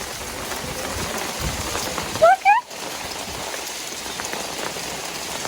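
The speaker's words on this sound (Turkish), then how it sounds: "Buzlar yağıyor lan." Dense hail of ice chunks clatters steadily on a hard surface nearby, a continuous rattling hiss; a voice briefly speaks partway through.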